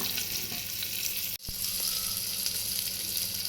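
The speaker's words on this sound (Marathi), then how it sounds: "आपण गुलाबीचा रंग येईपर्यंत परतून घेऊयात" Onion being sautéed in a pan until pinkish gives a continuous close sizzle with one very brief dropout, and no one speaks.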